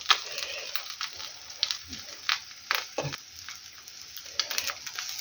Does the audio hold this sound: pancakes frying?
yes